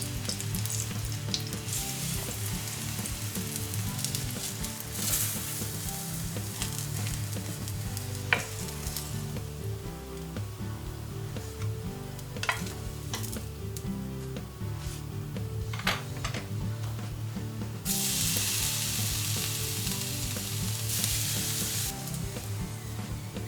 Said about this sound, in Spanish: Ponemos una sartén al fuego con un poco de aceite y las hacemos a la plancha.